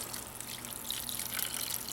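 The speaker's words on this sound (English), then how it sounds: "Adding some water." Water is poured into a pan of barbecue chicken slow-cooking on a grill, making a soft, continuous trickling splash heard faintly for a couple of seconds.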